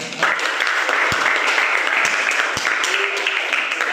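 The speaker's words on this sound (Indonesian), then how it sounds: "Tepuk tangan buat." Classroom applause on Yumyeongsan—no; a class of students clapping together, a steady dense patter of hands filling the room, loud and close, with a few sharper thumps standing out.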